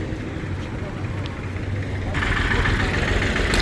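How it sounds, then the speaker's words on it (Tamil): Steady road traffic rumbles by at the site of a road accident, engines humming and swelling as vehicles pass, with a voice talking over the noise. "இப்போ நார்மலாக வாகனங்கள் போய் கொண்டிருக்குது"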